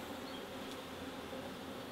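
Steady buzzing of a honey bee in flight near a ditch, a continuous close drone that holds for about two seconds with no talking.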